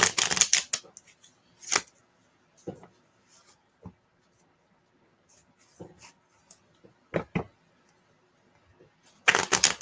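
A deck of reading cards is shuffled in a few quick, close riffling and tapping bursts separated by quiet gaps, with soft handling noises in between.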